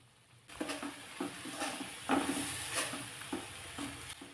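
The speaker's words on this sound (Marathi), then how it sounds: "व्यवस्थित छान असं हे टॉमॅटो मी परतून घेते आणि साईडने बघा त्याला थोडं थोडंसं असं तेल सुटायला लागलेलं आहे" Chopped tomatoes sautéing in oil in a pan, a steady sizzle broken by repeated rhythmic stirring scrapes, close and fairly quiet.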